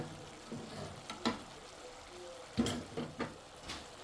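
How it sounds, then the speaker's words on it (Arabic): Chopped vegetables, including a pepper, frying in a pan with a soft sizzle and a few sharp crackles and stirring clanks, quiet and close with no talk. "نخلي الخضره تاعي تتقلى"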